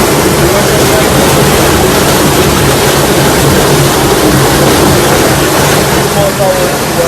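Water rushes loudly and steadily through the channel of an ancient working oil mill, where it drives the mill wheel: a dense, continuous roar that stays even and close throughout.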